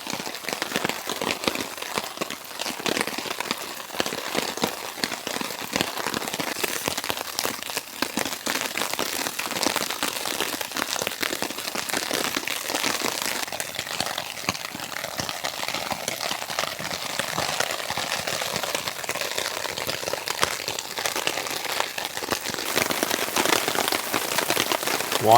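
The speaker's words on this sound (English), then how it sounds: "It appears to be snowing again. Almost. I can see it gathering on the tarp." Snow mixed with near-rain pattering steadily on a camping tent tarp in November, a dense, even crackle of falling flakes and drops close overhead with no talking.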